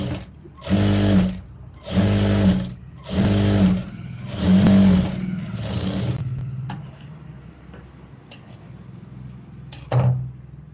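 A sewing machine stitches folded blouse fabric in four loud bursts of whirring run about a second each, then quieter handling clicks and a final short burst, close by.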